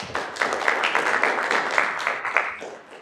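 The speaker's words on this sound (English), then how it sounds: "we like to clap during resolutions, but not for the rest of the meeting if possible" Audience applause at a Santa Barbara County Board of Supervisors meeting: a steady, dense crowd clapping in a hall, fairly loud and sustained, easing off toward the end with no voices.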